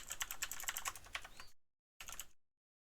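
Rapid clicking of keys on a computer keyboard, a quick burst of typing, a pause, then a few more keystrokes, close and fairly quiet.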